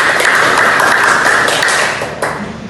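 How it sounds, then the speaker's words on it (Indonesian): A group audience at an Indonesian teacher-training session claps hands together, a brisk, close burst of many clapping hands that holds steady and then thins out toward the end, with no speech over it. "bersama-sama kita tepuk tangan"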